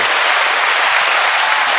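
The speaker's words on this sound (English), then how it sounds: "Let's clap it up." Steady, dense applause from a group clapping for Thomas, loud and continuous throughout with no break, no individual claps standing out.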